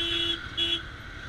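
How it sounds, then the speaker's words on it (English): Evening road traffic on Bangalore's outer ring road near Marathalli, with two short car horn toots over a steady roar of engines, fairly close and without talking. "So this is Bangalore city traffic."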